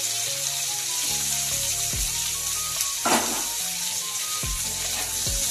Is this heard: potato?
yes